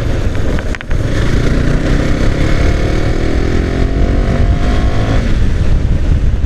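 A KTM Duke 390 motorcycle engine revs hard while being ridden, a loud, close, continuous roar whose pitch climbs steadily as the throttle opens, with no talking.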